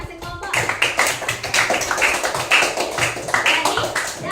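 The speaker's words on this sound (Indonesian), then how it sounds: "Tepuk tangan buat kelompok masing-masing kelompok." Classroom applause for student groups during a coding and artificial intelligence lesson: sustained clapping from many hands, fairly loud and steady, running throughout with faint voices mixed in.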